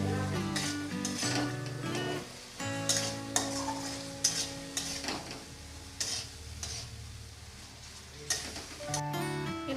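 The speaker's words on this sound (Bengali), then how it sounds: "চিনি দিয়ে আমি ভালো করে নেড়ে চেড়ে চিনিটাকে গলিয়ে নেবো" Sugar being stirred in a pan to melt for Bilati Amra (hog plum) chutney, with steady scraping and soft sizzling under a continuous musical background.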